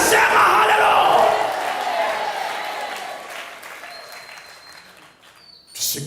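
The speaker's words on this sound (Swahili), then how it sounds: "upige makofi mazuri kwa Yesu mwana wa Mungu aliye hai" Loud applause from a church congregation praising Jesus, with cheers and shouts over the clapping, gradually thinning and fading, then a brief burst of noise at the end.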